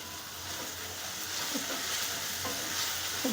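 Ground spices (turmeric, coriander powder, cumin mix, red chilli) sautéed and stirred in a kadhai over low gas, a steady soft sizzle with a few light scrapes of the spoon against the pan.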